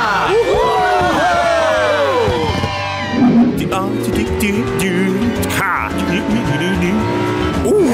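Cartoon race cars speeding off at the start of a race, engines revving up in rising whines with tire squeals, loud and close, with people talking and cheering over it.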